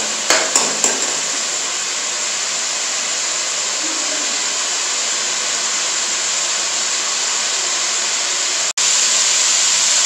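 Meat frying in oil in a karahi for charsi karahi, a steady loud sizzle throughout, opened by a few sharp metallic knocks and cut by a brief dropout near the end.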